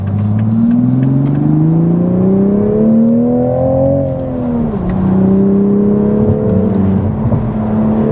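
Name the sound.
Toyota GR Supra MkV driving on twisty road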